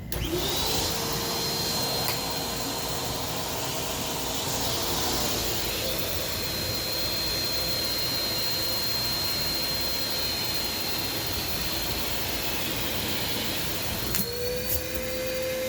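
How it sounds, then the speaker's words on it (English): A Shark Navigator Swivel Plus vacuum cleaner runs steadily and loudly throughout, its whine shifting pitch as the nozzle sucks at a bin, then rising again near the end. "So we're going to vacuum this out real quick and go from there."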